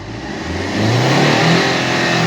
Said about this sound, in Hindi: और अभी रेस करता हूँ, टर्बो देखो बूस्ट बना रहा है क्या